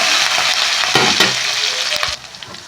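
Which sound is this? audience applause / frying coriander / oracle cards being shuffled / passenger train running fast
frying coriander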